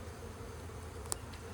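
Honey bees drone steadily around an open hive during an inspection of honey supers, a quiet continuous buzz with one brief sharp tick partway through.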